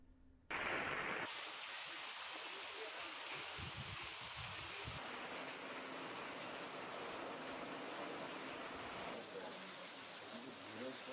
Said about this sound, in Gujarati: આજે સમગ્ર ડાંગ જિલ્લામાં વરસાદ વરસી રહ્યો છે